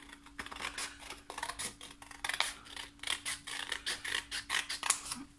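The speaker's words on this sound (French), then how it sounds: "je vais juste la redécouper bord à bord." Scissors snip through tape repeatedly in quick, rhythmic cuts close by, a dry crisp rasping sound with no talking.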